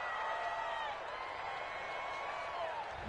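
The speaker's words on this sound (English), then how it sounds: "This home crowd, they're happy with that call." A home crowd at a football game roars in approval of a referee's call, a dense, steady wall of cheering that fills the whole moment without letting up.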